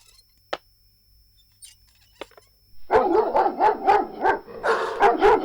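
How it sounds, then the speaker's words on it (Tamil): A dog barks from somewhere nearby. A few isolated yips and clicks come first, then a steady run of loud, repeated barks with a rhythm of about two per second. "நாய் பாட்டுக்கு நிக்காம குலைச்சிட்டே இருக்கு"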